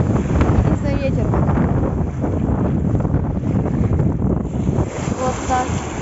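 Strong wind buffeting the microphone at the Crimean seaside, a constant loud roar with surf beneath and faint bird calls, no talk.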